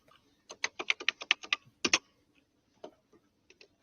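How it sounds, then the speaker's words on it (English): A police officer types on a computer keyboard: a quick run of crisp, close keystrokes, then a pause and a few scattered single taps. "all he's doing now is typing"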